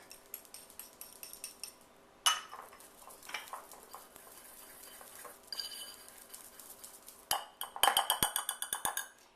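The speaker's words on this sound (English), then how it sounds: "whisking my flour and my baking soda and salt together in a bowl" A whisk stirs flour, baking soda and salt together in a bowl for cookie dough, producing light clinks and scrapes against the bowl that build into a quick rhythmic tapping near the end.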